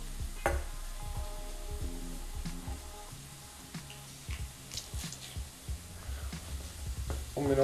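Chard and golden-browned ingredients fry in a pan with rice being added, giving a soft sizzle under repeated scraping and stirring clatter close by.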